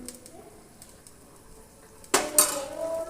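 Semolina for upma being stirred in a pan: quiet faint scraping for a couple of seconds, then louder close clinks and scrapes of a metal spoon against the pan.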